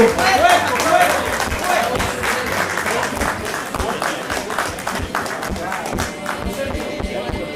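Crowd applause fills a rock anniversary celebration at a Villa Ángela museum, steady dense clapping that stays loud throughout, with a voice speaking over it.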